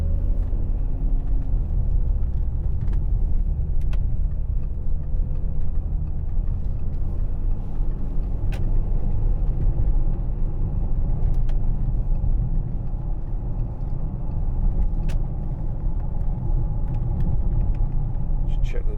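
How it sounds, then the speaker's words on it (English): Steady low road rumble and tyre noise fill the cabin of a moving 2010 Audi Q7 3.0 TD S line Quattro, a constant droning hum with occasional faint clicks. "there's a little bit of tyre noise"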